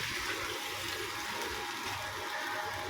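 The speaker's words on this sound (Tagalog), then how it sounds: "Lagyan ko ulit ng tubig para lumambot ang ating karne" Water gushes and splashes steadily into a cooking pot of meat for a few seconds, close and continuous, no voices.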